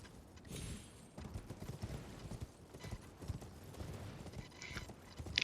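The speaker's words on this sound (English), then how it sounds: "So we hop on our horse," Horse hooves galloping in Elden Ring, a steady rapid clip-clop of the mount running across open ground, fairly close and continuous, with occasional snorts and a faint game ambience underneath.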